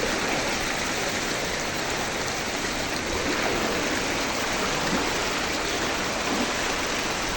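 Heavy rain in Kamareddy with flowing water, a dense, constant broadband rush like a stream or runoff, steady and loud throughout with no talking.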